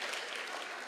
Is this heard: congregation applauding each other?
yes